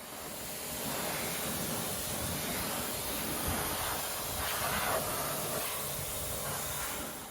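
Water spray rinsing sticky construction dust off a car wheel, a steady broad hiss of jetting water running continuously throughout at close range.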